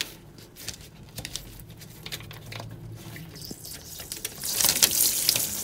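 Pink antifreeze flows out of a boat's drain during winterizing, a steady trickling and splashing of liquid that swells louder near the end, with no talking.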